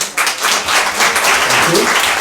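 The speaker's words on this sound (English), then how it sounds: "So a round of applause to the organizing team." Audience at a Kiwanis Club soirée applauding the organizing team, a dense, loud burst of many hands clapping that holds steady throughout.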